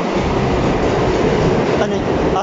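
A Brighton Beach-bound B express subway train rumbles loudly and steadily up close, its rolling roar filling the space without pause.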